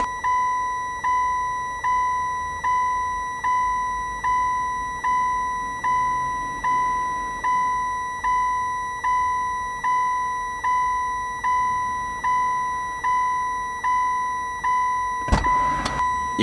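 A car's front parking sensor beeps in a steady rhythm, about one close, clear electronic tone per second, with the car in reverse. A sharp click sounds near the end.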